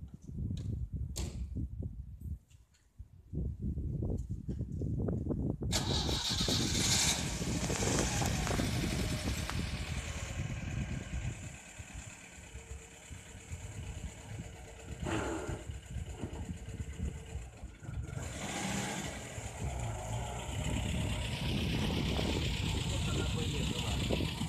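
A GAZ-21 car engine, freshly given a full rebuild, is run for its first test, a steady low idling rumble that sets in after a few seconds of quieter shuffling and continues at moderate loudness, with people talking nearby.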